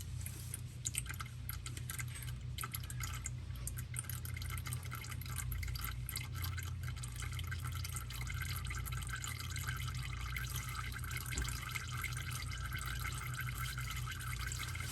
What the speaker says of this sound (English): It's almost done dripping here.